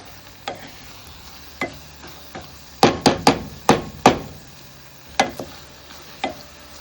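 A spoon stirs mint pulao in a pot, knocking against the metal in scattered sharp clacks, with a quick cluster in the middle, and no talk.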